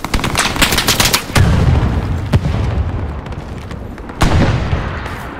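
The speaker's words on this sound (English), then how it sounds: "friendly MGs stop shooting at me" Friendly machine guns in the World War II shooter Hell Let Loose fire close and loud: rapid, rattling bursts repeat over a rumbling battlefield, with heavier booming thumps in between.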